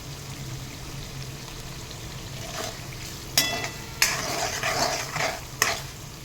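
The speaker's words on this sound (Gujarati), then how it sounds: "હવે ટમાટર ચડે ત્યાં સુધી ધીમા તાપે એને ચડવા દેવાના છે." Tomatoes cooking slowly over low heat in a pan, a soft steady sizzle underneath, broken by a few sharp clatters and scrapes of a utensil against the pan in the second half.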